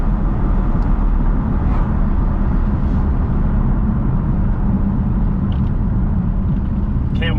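An Audi R8 V10 driving in dynamic mode with its exhaust valves open, a loud continuous low rumble of engine and road noise heard from inside the car, with faint brief sounds over it.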